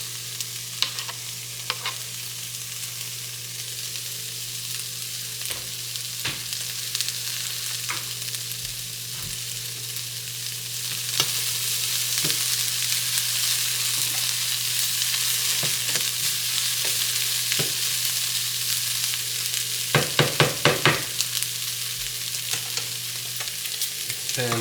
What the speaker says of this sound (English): Put in the garlic.